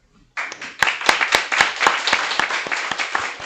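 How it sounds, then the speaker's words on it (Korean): A congregation applauds at a Korean church ordination and installation service for deacons and deaconesses, with a burst of close, crisp claps that starts suddenly and holds at steady strength for several seconds with no voices. "뒤로 정중 향해 서시고 박수하시고 인사하시고 박수하시겠습니다"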